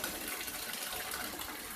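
Pumped well water pours steadily into a cistern tank through a manhole riser on an off-grid mountain lot in western Colorado, a constant close rushing splash with no pauses.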